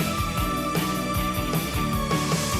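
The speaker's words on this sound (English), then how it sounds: "clean, reverberated guitar. Yeah, with probably a little bit of delay on it" Clean electric guitar drenched in reverb with a touch of delay, ringing arpeggiated notes over a steady rhythmic pulse, full and continuous.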